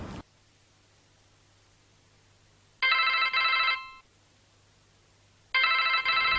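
A telephone rings in two loud electronic bursts with a pause between, indoors in a classic drama scene, each ring about a second long over a quiet low hum.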